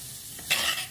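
Chopped onion stirred and sautéed in a clay pot for a home-style chicken curry, with a steady close sizzle and a louder burst of scraping and frying partway through.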